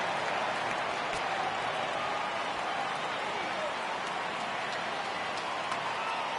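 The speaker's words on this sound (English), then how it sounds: "Crowd gets up for the 3-2." Stadium crowd in MLB 18 The Show cheers at a full count in the top of the ninth of a Dodgers at Diamondbacks game, a steady broad roar of applause and voices filling the clip.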